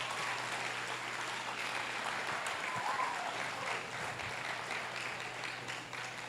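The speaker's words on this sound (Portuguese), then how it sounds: "Vamos dar um aplauso bem forte para Jesus." A church congregation claps steadily for over six seconds, a dense, even wash of hands with a low hum underneath and a few faint voices.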